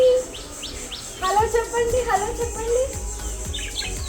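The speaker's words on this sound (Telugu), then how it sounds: "ఇక్కడ బర్డ్స్ కూడా ఉన్నాయి." Birds chirp in short, repeated rising calls from the trees and greenery around a house with a balcony in Kerala, heard fairly close while a person talks over them.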